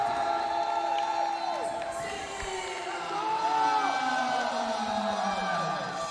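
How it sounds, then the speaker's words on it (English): A live MMA event crowd cheers and whoops in the arena, a steady dense roar with scattered shouts and whistles rising and falling behind commentary. "Their crowd is still here."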